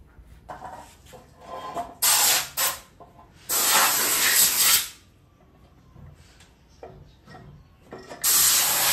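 Several sharp bursts of aerosol spray, each a loud hiss lasting a second or so, separated by quieter workshop handling noises.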